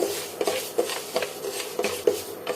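Dry moong dal being roasted in a pan for payasam, stirred with a metal spoon that gives light scrapes and clinks at an irregular pace, close and fairly quiet.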